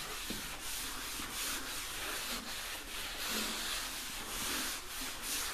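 Sandpaper rubs rhythmically across a wooden kayak hull in steady back-and-forth strokes, a close, continuous abrasive hiss with no talking.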